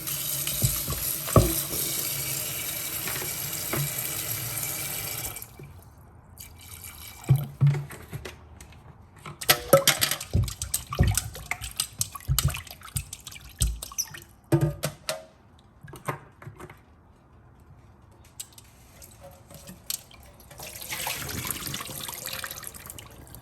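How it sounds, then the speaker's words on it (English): Beef being washed with vinegar under running water in a home kitchen, the tap flowing in loud bursts broken by quieter gaps, with splashes and drips close by. "While the peas is pressuring, I am going to wash my beef with vinegar as usual, and then season it."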